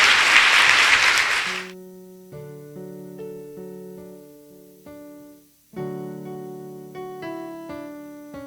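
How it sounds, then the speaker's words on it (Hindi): A church congregation bursts into loud, dense clapping that lasts only a moment before cutting off, followed by sustained keyboard-like musical notes ringing out on their own. "आज जोरदार ताली बजा के खुदा को धन्यवाद है।"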